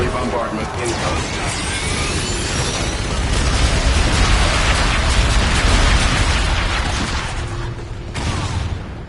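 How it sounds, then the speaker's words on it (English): An air bombardment strikes in Call of Duty: Infinite Warfare multiplayer, with heavy rumbling explosions and crackling bursts blending into a loud, continuous barrage that builds and then eases off, while a voice is also present. "Friendly bombardment incoming."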